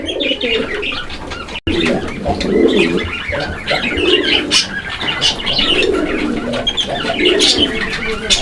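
Fancy pigeons, including Indian white Bombai birds, coo steadily in a busy loft, soft throaty calls repeating under chirps and rustling wing sounds, close and continuous.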